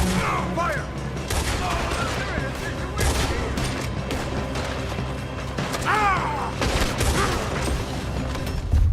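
Dense gunfire from a shootout in the video game Red Dead Redemption 2, with bursts of shots, booms and clanks, while voices call out in between.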